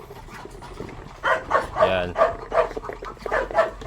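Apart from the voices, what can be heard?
dog barking angrily at ducks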